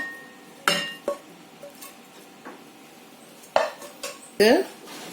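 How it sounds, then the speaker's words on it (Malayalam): Cooked semolina tipped into mashed potato in a bowl, with sharp metal spoon clinks and scrapes against the dish in a few scattered bursts over a quiet kitchen background. "നമുക്ക് ആദ്യം ഈ വേവിച്ച് വെച്ചിരിക്കുന്ന റവ ഇതിലേക്ക് ഇട്ട് കൊടുക്കാം"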